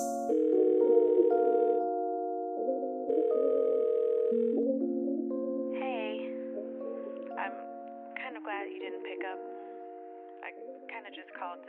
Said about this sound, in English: so please leave a message at tone.